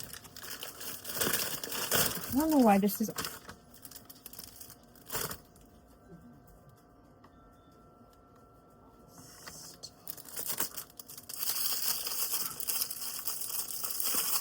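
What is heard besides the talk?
shrink wrap packaging being cut and torn open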